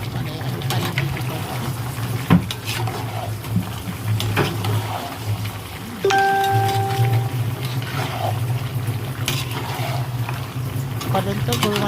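Water poured into a pot of cooking beef curry with potatoes, a running liquid sound with splashing and bubbling over a background hum, and a clearer, steadier flow starting about halfway through.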